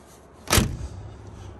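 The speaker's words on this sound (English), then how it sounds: "Show you how this door's closed here." A car door on a classic Buick Special two-door hardtop, riding on air bags, shuts once with a single solid, close thunk, then a short fade into quiet.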